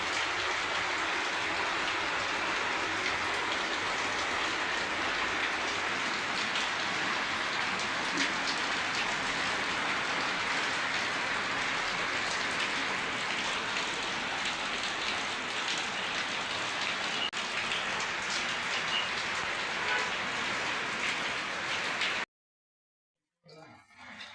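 Steady rain falls continuously in a rural North Karnataka setting, a dense, even hiss with no talk that runs unbroken until it drops out briefly near the end.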